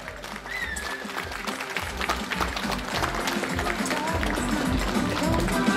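A crowd claps at the podium prize-giving ceremony of the FIA Historic auto24 Rally Estonia 2014, the dense applause building steadily over a few seconds, with a few cheers mixed in.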